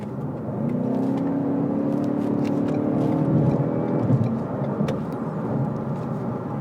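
A 2017 Ford Fusion Sport accelerates at full throttle, its engine note climbing steadily and loudly for several seconds inside the cabin before easing off, with no talking.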